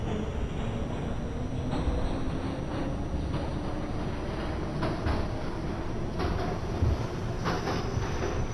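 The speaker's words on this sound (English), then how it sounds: "Coney Island bound D train, next stop 20th Avenue," An R68 subway train on the D line in the OpenBVE simulator runs steadily, with a constant rumble, rhythmic wheel clicks over the rail joints and a faint high whine.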